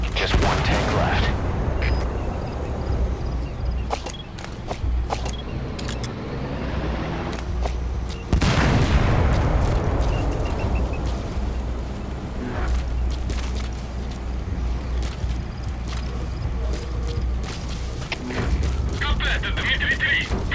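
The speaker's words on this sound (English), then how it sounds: "Капитан Дмитрий-3, был взрыв." An explosion in Metal Gear Solid V: The Phantom Pain booms loudly near the start and again around the middle, with rumbling, crackling debris and mechanical clatter, while radio voices talk over the din.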